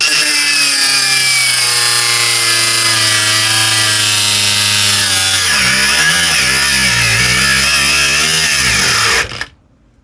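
A Parkside brushless angle grinder cutting very hard material, its loud whine dropping and wavering as the motor bogs down under load, then cutting out abruptly near the end.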